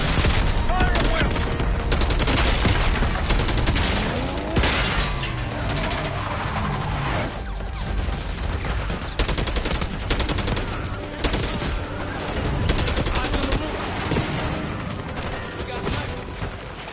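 Sustained gunfire from a Black Ops 6 campaign battle: dense, loud bursts of automatic weapons and scattered single shots overlapping continuously, with voices briefly calling out beneath the din.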